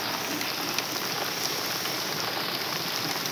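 Steady rain pours onto a waterlogged field, an even, close hiss of countless drops that holds without a break.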